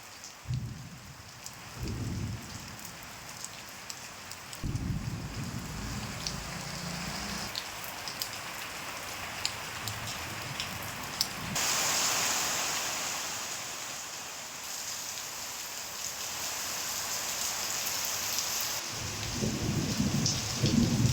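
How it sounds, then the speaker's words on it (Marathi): Steady rain pours throughout an unseasonal storm with strong wind in Baglan taluka, Nashik district, while deep rolls of thunder rumble in several waves, the last one building loudly near the end. "जोरदार वादळी वारा विजांचा कडकडाट आणि पाऊस झालाय"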